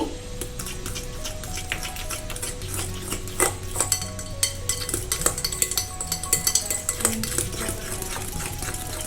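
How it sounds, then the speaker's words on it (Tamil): Banana bread batter with cinnamon powder is stirred steadily in a bowl, the utensil clinking and scraping against the sides with irregular taps that grow busier toward the end, with no voices. "அதுக்கப்புறமா பட்டைப்பொடி போட்டு கொஞ்சம் நல்லா மிக்ஸ் பண்ணிக்கலாம்"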